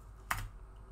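A single keystroke on a computer keyboard, one crisp close click standing alone against a quiet background hum.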